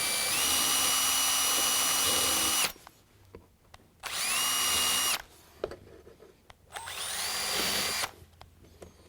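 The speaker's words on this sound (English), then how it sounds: "Now it's time to drill." A power drill whines loudly in three long bursts while drilling wood for a jewelry box, its pitch rising as each starts, with quiet pauses between runs.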